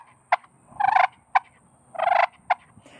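A push pin turkey call makes a sequence of imitated turkey sounds: sharp single clucks alternate with quick rattling runs of yelps, close and clear with no talking.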